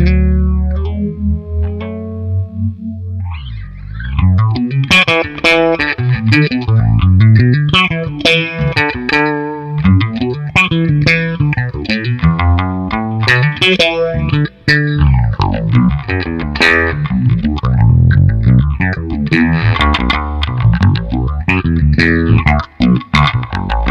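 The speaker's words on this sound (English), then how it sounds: "you can take the phaser sounds available in the bass envelope filter and get yourself a phaser pedal just by using a slow LFO" Bass guitar runs through a Source Audio Bass Envelope Filter Pro set to a phaser with a slow LFO, playing a continuous loud distorted line whose tone sweeps in slow, swirling phaser waves. It starts with a few clean notes, with no talking.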